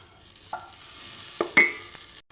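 Teasel gourd dropped into hot oil in a pan where okra was just fried, giving a quiet sizzle marked by a few sharp clatters and scrapes of a utensil, close by and without talk.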